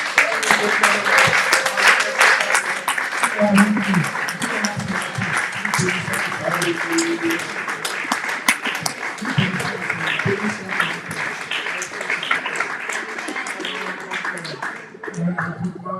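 A church congregation applauds and cheers during a worship service, sustained clapping mixed with voices and shouts across the whole span, with singing or speech woven through.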